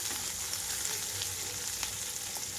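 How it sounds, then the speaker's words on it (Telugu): Onions and green chilies frying in a pan over a medium flame, with a steady close sizzle and faint crackles running throughout, no talk. "ఉల్లిపాయలు అంతా పర్ఫెక్ట్గా వేగిపోవాలండి రెండు నుంచి మూడు నిమిషాల పాటు మీడియం ఫ్లేమ్లో ఉంచుకున్నాను"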